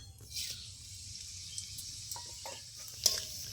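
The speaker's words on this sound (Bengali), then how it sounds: "ফোড়নে দেবো কালো জিরে আর শুকনো লঙ্কা" Nigella seeds and dry red chillies frying in hot mustard oil give a steady, soft sizzle with faint stirring clinks and a brief sharp crackle near the end.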